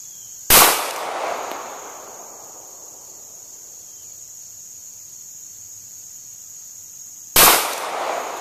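Two sharp, loud pistol shots from a Smith and Wesson Bodyguard, fired at about 20 yards outdoors, are spaced several seconds apart, each followed by a short decaying echo.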